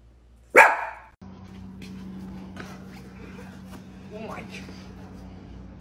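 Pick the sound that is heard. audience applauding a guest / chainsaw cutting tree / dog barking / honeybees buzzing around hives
dog barking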